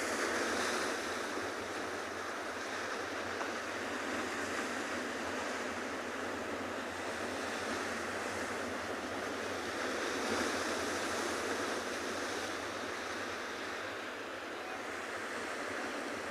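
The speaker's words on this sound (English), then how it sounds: "Even the sound of the ocean is calm and soft now." Calm, soft ocean waves wash onto a South African shore at low tide: a continuous broad hiss of surf with gentle swells, steady and fairly close, with some wind noise and no voices.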